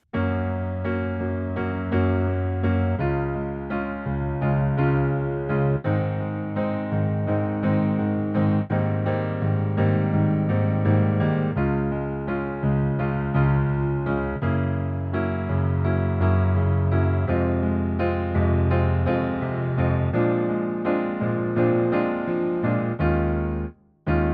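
Piano plays a bouncy, syncopated passage with full chords and a steady low bass line, sustained and moderately loud, ending abruptly.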